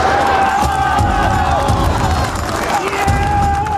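A panicked crowd as horses charge, a dense rush of shouting voices and trampling feet, loud and close throughout, with a high cry or whistle rising over the din.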